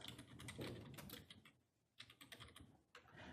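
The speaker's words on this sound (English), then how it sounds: "I'm just typing all the expenses in." Quiet clicking of a computer keyboard as expenses are entered into an Excel spreadsheet, fast irregular keystrokes in bursts with a short pause midway, close but faint.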